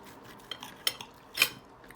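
A few short, bright scrapes of cutlery dragging across a plate at home, the last one longer and louder, with quiet room sound between them.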